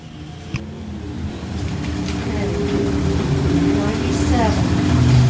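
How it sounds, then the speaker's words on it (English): Pure stock race cars roar around the oval at I-35 Speedway, a steady, dense engine drone that swells slightly louder toward the end, with a brief bang early on and a commentator talking over it. "We're back to pure stock racing at I-35 Speedway."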